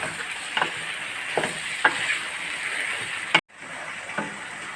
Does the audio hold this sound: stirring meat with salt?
yes